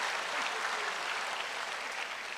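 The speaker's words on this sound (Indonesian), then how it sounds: "Kasih tepuk tangan dulu yang besar dong untuk Tuhan Yesus." A church congregation claps together in sustained, dense applause, a broad steady wash of hands that holds evenly for the whole stretch without voices.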